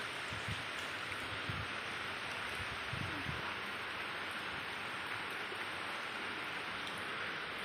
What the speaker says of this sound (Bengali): সকালবেলাতেই যা অনেক বৃষ্টি হচ্ছে